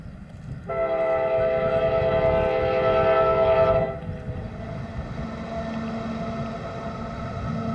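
A train at a desert station on the Beijing–Lhasa railway, the world's highest line, blows a loud, steady horn for about three seconds, then continues as a lower rumbling roll of wheels and cars.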